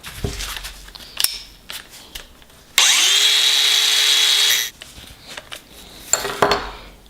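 A saw or cutting tool works through a metal turbo oil drain line tube on a BMW 335i with the N54 engine, a steady loud burst of about two seconds between scattered clanks and handling of tools.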